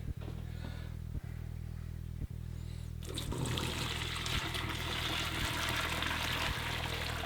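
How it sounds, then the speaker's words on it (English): Water from a pot of boiled potatoes pours out steadily in a continuous rushing stream, starting abruptly partway through after a quieter stretch, loud and close with a low hum underneath. "let's go ahead and drain the potatoes"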